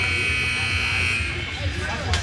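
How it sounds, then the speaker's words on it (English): A sustained electronic buzzer sounds at a youth ice hockey league game, a steady drone filling the whole moment at the break before the third period, with arena noise and a voice underneath. "Sound of the buzzer."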